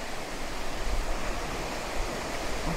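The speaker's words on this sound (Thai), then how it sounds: "มองไปทางไหนเจอแต่น้ำตกทั้งนั้นเลย" Pha Tat waterfall at a campsite, a steady broadband rush of falling water, loud and continuous with no pauses and no voices over it.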